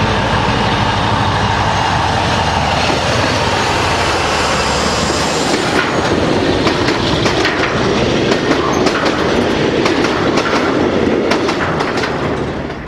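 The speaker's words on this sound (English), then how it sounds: "47749 setting off from Honeybourne in February 2010 with stock for Llanwern" British diesel locomotive 47749 setting off from Honeybourne in February 2010 with a train of stock, a loud, close, steady engine roar with rumbling wheels, then rhythmic clickety-clack as the wagons roll past.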